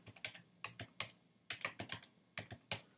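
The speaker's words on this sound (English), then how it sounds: "Type in your password." Quiet, close computer keyboard keystrokes entering a password, in about three quick runs of crisp clicks separated by short gaps.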